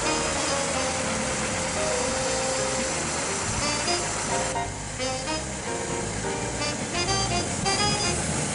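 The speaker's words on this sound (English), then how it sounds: "Its petrol side valve engine is quiet in operation." A vintage bus's petrol side-valve engine runs at a show, a dense, steady mechanical hum and rattle with a slight shift partway through, continuous and fairly near.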